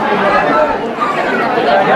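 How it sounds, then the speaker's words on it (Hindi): Dense crowd chatter at Robber's Cave (Guchhu Pani) near Dehradun, a steady loud babble of many overlapping voices with no single speaker standing out. "बहुत भीड़ है।"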